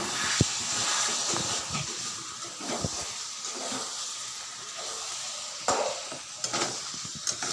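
Mutton being stir-fried (kosha) in a pan, with scattered scraping stirs and clacks over a faint, steady sizzle, moderately quiet and close.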